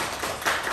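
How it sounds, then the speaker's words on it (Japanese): Welcoming applause from a church congregation during a Sunday worship service, a brief, moderately loud burst of many hands clapping, swelling briefly toward the middle. "歓迎の拍手を"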